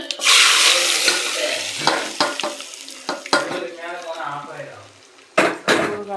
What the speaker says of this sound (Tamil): நம்ம பொரிஞ்சதை நம்ம இந்த ஊறுகாயில் ஊற்றி